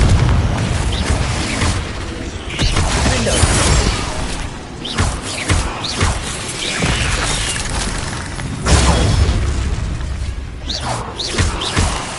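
Loud, dense crashing booms and bursts from a Confringo fire spell in Hogwarts Legacy, filling the whole stretch with layered impacts and whooshing debris during a heated spell battle.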